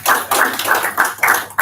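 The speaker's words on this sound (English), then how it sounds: "Let's give it applause to the speakers." A small audience at a London forum claps for speakers in short rhythmic bursts of a few seconds, close and moderately loud.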